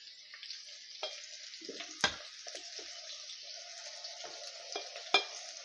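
Broad beans (chikkudukaya) fry in a pan, giving off a soft, continuous sizzle broken by a few sharper crackles and spoon scrapes, quiet and close with no talking.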